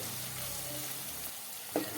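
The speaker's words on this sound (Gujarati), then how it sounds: "મરચાંને આપણે થોડીક વાર પકાવશું કે મરચાં સારી રીતે પાકી જાય।" Chillies cook in a pan, giving a steady, close frying sizzle that runs the whole time. Near the end comes one brief clink.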